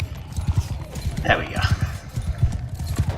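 Galloping horses in a Mount and Blade II: Bannerlord battle, a steady run of close hoof thuds with a brief whinny in the middle, while someone speaks briefly over them.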